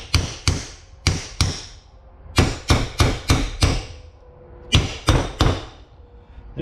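Sharp metal hammer strikes drive a driver tool to seat a part in a trailer wheel hub, landing in quick bursts of two to four blows separated by short pauses, close and distinct.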